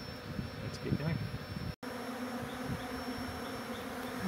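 A dense swarm of honey bees hums continuously at close range during a beehive relocation, a steady buzzing drone broken by one brief dropout partway through.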